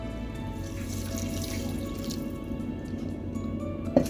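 Water pours into a quinoa and bacon casserole mixture in a bowl, a steady close trickle and splash that runs continuously before a brief knock at the end.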